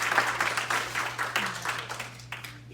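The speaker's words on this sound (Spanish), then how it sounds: "Un aplauso al Señor" Church congregation applauding at a construction kick-off service, a steady wash of clapping that runs the whole time at moderate level over a low electrical hum.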